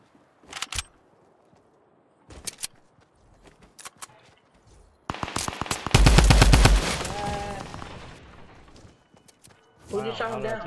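Gunfire in the video game Fortnite: a few scattered single shots, then a loud burst of rapid automatic fire in the middle, with people talking over parts of it.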